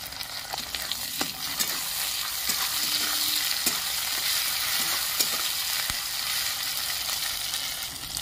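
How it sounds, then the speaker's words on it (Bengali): Onion, ginger-garlic paste and chopped tomato frying in a pan, a continuous hiss of sizzling oil with scattered clicks and scrapes of stirring, moderately loud and without talk. "পেঁয়াজটা একটু লাল করে ভেজে নেব।"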